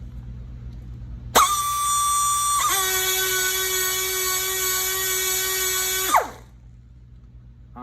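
A pneumatic air tool, a CP model, spins up abruptly to a piercing high-RPM whine, steps up once in pitch, holds steady for several seconds, then cuts off and winds down, close and loud with no talk.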